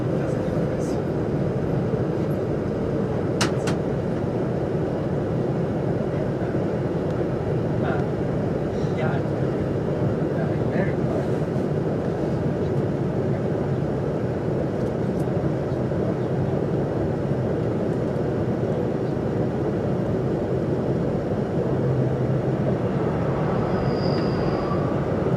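A train rolls toward its terminus at Liverpool Lime Street, a steady low rumble of wheels and carriage noise filling the whole stretch, with faint clicks and a brief higher tone near the end.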